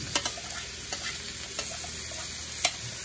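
Garlic frying in a pan, a steady close sizzle of hot oil with a few sharp crackles and stirring scrapes, no voices.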